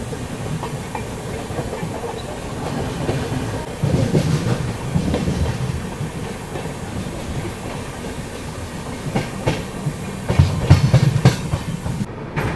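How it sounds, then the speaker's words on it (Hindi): The Shalimar Chennai Weekly Express passes on an Indian railway section near Nellore, with a continuous rumble, rhythmic clickety-clack wheel beats that swell twice, and faint hiss. No voices. "सामने से अभी ये आ रही है अपनी शालीमार चेन्नई वीकली एक्सप्रेस"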